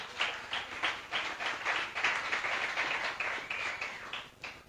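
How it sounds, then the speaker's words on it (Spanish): Applause from a church congregation during a worship service, a steady wash of many hands clapping with rhythmic pulses throughout, fairly loud and continuous with no voices on top. "Dale un fuerte aplauso a Jesús."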